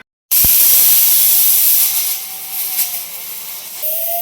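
A sudden loud hiss of steam bursts from a pressure cooker cooking dal and holds steadily for several seconds, easing slightly toward the end, close by.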